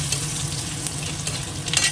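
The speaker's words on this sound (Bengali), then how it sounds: "নারকেলটাকে একটু ভেজে নিচ্ছি" Grated coconut fries in a hot pan, giving a steady close sizzle while a spatula scrapes and stirs with soft intermittent clicks.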